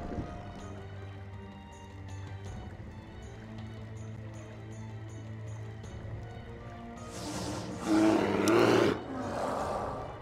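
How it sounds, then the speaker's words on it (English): A roar ability sounding in Warcraft III Reforged during a custom Sentinels campaign, a brief loud burst rising over steady game music and ambience late on, alone without talk. "I love how you used roar at the same time."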